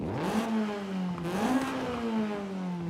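A turbocharged 2-liter four-cylinder car engine in Forza Horizon 5 revs steadily with a smooth rising and falling whine, loud and close, with no talking.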